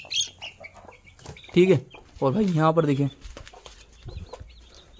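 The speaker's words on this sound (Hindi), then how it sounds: "तो अभी हमारी मुर्गी बैठी है यहाँ पर अंडों के ऊपर।" A hen sitting on eggs in a coop clucks in short throaty bursts, close by, alternating with someone speaking.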